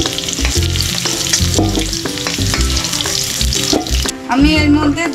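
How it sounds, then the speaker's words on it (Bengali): Potatoes frying in hot oil for a mutton curry, a loud, close, continuous crackling sizzle with rhythmic stirring scrapes throughout and a brief change near the end; no speech. "আমার মাংসের আলু ভাজা হয়ে গেছে, আমি এবারে ছেড়ে নিচ্ছি আলুগুলো।"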